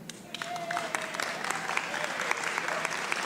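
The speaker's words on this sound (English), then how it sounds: "That is worth an applause." Audience applause at an education association address on Maryland teacher pensions, a steady wash of many hands clapping at moderate distance, with some voices faintly mixed in underneath.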